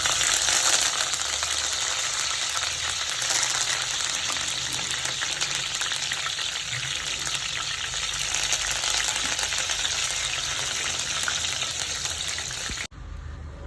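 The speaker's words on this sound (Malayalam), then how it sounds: "ആദ്യം കുറച്ച് കറിവേപ്പില വറുത്തെടുക്കാം" Curry leaves frying in hot oil before anchovies are fried: a continuous crackling sizzle held at an even level and cut off abruptly just before the end, with no talk.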